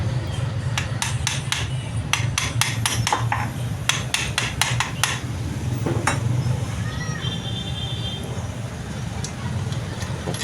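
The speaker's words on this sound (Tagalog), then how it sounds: "Pukpukin na madahan-dahan" An alternator housing is tapped gently into place with a hammer: a series of light metallic knocks in quick clusters, then sparser taps, over a steady low workshop hum.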